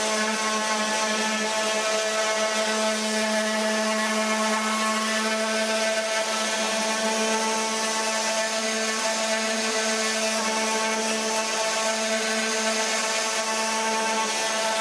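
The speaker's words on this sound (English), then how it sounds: "So I'm going to turn this on. It's going to be loud for a few moments, but I'm going to give everything a quick sand" A power sander running continuously on wooden ties, a loud, steady motor whine with no break and no speech.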